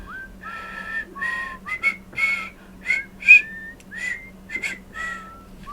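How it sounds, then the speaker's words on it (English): A person whistles through their teeth in a series of short, breathy, wavering notes, close and fairly loud, with no talking. "I'm whistling through my teeth"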